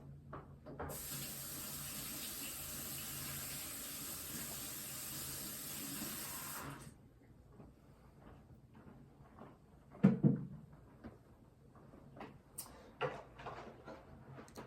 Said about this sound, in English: let me wash my hands and I'm gonna wash this off.